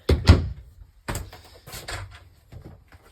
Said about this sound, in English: Just step in, close the door.